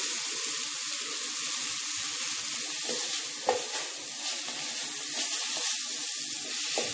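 Sliced onions sautéing in a pan with softened tomatoes for tomato chutney, a steady close sizzle with occasional scrapes and stirring clicks throughout, no talking.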